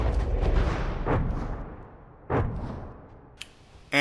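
Ammunition clips for guns exploding in the naval combat video game From The Depths, heard as rumbling booms that decay slowly, a sharp later blast and a few crisp cracks, loud and close with no speech.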